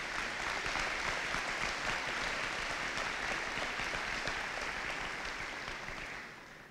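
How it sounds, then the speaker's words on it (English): Audience applause for a band at a military unit inactivation ceremony, a sustained, dense wash of clapping from a large crowd that holds steady and then begins to taper off near the end. "So a round of applause for the band."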